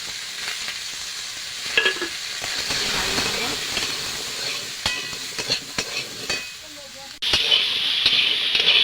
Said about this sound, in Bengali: আমি একটু ভেজে নিয়েছি তরকারিটা